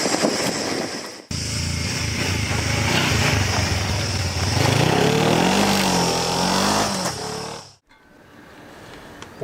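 A Kawasaki KLE500 motorcycle, a water-cooled 498 cc four-stroke parallel twin with double overhead cams and eight valves, runs close by with a steady throb that swells as it revs up, then cuts out abruptly near the end.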